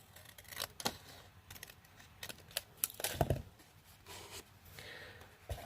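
Scissors trim cardstock for a 3D pop-up card at a stamping craft table, a run of short crisp snips and paper rustles, fairly close and moderate in level with no voices.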